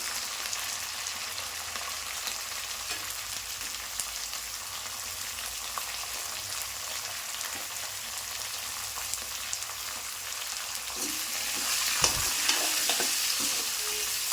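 Onion and green chilli fry in a pan with a constant fine sizzle and crackle, steady throughout, rising slightly louder toward the end with a few faint stirring scrapes, no voices.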